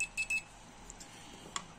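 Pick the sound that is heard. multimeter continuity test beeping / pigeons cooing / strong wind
multimeter continuity test beeping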